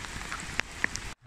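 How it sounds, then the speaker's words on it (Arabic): Heavy rain drums steadily on a car during a drive toward a nature cottage, a dense hiss of downpour with a couple of sharper drop hits before it cuts out abruptly. "الحبر والله مطر قوي لكن إن شاء الله نعدي سلام. والله أمطار غزيرة"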